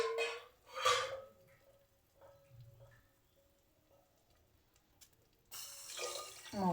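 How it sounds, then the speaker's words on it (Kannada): Water is poured from a glass onto rice in a pot while cooking masala rice, giving a short splashing pour, then quiet, then a longer steady pour near the end, fairly soft and close. "1 ಗ್ಲಾಸ್ ಅಕ್ಕಿಗೆ 3 ಗ್ಲಾಸ್ ನೀರು ಹಾಕ್ತಾಯಿದ್ದೀನಿ"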